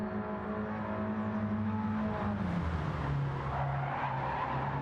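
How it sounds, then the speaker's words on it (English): A race car at the Goodwood festival slides sideways with a sustained tire squeal and skid over a droning, revving engine, loud and continuous for several seconds. "Oh, big sideways there in the 65, carrying as much speed as you can heading towards paddock"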